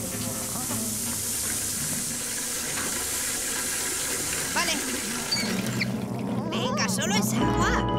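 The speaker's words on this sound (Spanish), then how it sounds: "Venga, solo es agua." Water runs into an old bathtub during a cartoon dog's bath, a steady splashing, gurgling stream under lively talking voices, growing louder and more turbulent toward the end.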